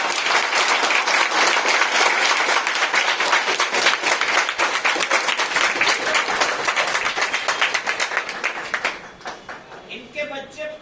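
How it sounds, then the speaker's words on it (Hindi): Sustained applause from an audience, dense and loud for about nine seconds before thinning into scattered claps as voices come through at the end. "थोड़ा ताली भी बजाते"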